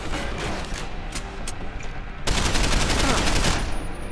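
Gunfire in the video game Deus Ex: Human Revolution: dense, steady bursts of shots that turn sharply louder and heavier about halfway through and keep hammering to the end.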